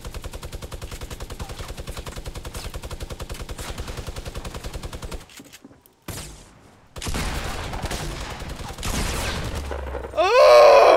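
Rapid automatic gunfire rattles steadily in the Fortnite battle royale game, a fast regular stream of close shots, then breaks off into short gaps, a burst of noisier blasts and harsh game effects near the end.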